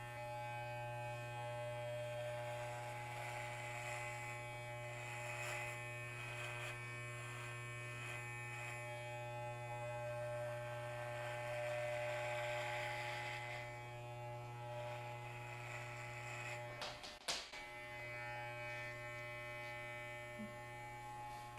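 Electric hair clippers buzz steadily and close up while shaving a head, a constant motor drone with shifting texture as the blades move through hair, briefly interrupted near the end by a sharp handling knock.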